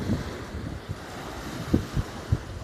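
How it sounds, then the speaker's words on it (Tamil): Sea waves rolling in with a steady low wash and soft wind rumble, a few heavier surges breaking through at uneven intervals, moderately distant and fairly quiet. "ஸோ மீண்டும் கடல் அலையை பார்க்கிறோம்."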